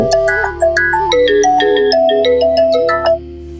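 A melodic electronic phone ringtone plays loud and close, a quick tune of bright tones that stops abruptly after a few seconds.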